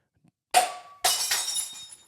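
A glass whiskey bottle dropped on a hard floor bounces once with a sharp crack and then bursts apart in a loud shatter, with pieces tinkling and scattering briefly over near silence.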